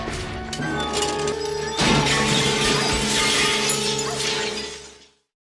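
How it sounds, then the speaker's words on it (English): Greenhouse glass panes shatter in a loud crash as a door is opened, followed by several seconds of dense tinkling shards raining down and settling, then a sudden stop to silence. "the entire glass shatters and falls on her"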